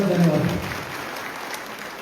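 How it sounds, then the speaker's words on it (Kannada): An audience at a farmers' meeting applauds in a short burst that starts loud over a speaking voice, then quickly thins and fades away. "ಪ್ರೇಮ್ ಚೌಗಳ ಅಂತ ಅವ್ರಿಗೂ ಒಂದು ಜೋರಾದ ಚಪ್ಪಾಳೆ"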